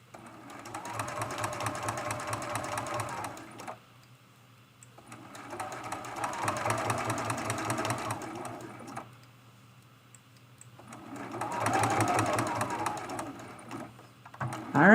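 A domestic sewing machine stitches a hexagon mug rug in three bursts of rapid, even needle chatter, each run of a few seconds separated by short quiet gaps, close and clear.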